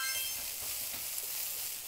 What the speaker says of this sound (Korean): 지글지글.